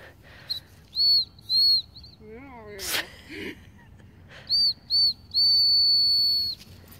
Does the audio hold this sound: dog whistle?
yes